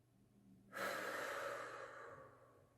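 A single long exhale during a neck stretch exercise, held breath released in a steady airy rush that swells quickly and fades slowly, close and alone.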